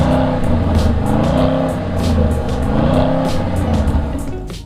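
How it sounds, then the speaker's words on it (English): A V8 engine revs hard and close, its deep throaty roar rising and falling through several throttle blips. "Just take a listen to how this V8 engine sounds."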